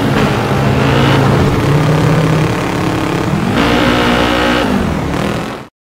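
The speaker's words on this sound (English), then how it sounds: "The sound of the engines can become very annoying after a while." Racing game engines played on an emulator drone loudly and continuously, with revving pitch that rises and falls, close and dominant until an abrupt stop.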